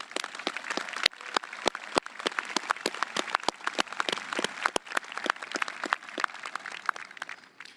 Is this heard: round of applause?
yes